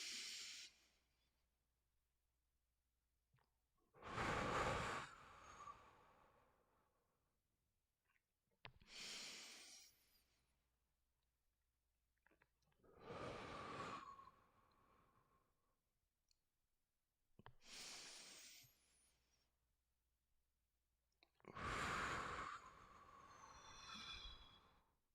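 Slow, deep breaths during a core and calisthenics exercise session, with five long, airy inhales and exhales in a steady rhythm separated by near-silent pauses, close and clear.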